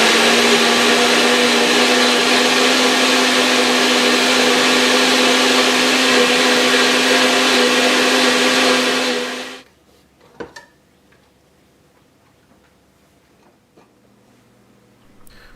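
A blender whirs loudly and steadily as it chops aluminum foil in fluid, a constant motor drone that runs for about nine seconds and then cuts off, leaving near-silence with a few faint clicks.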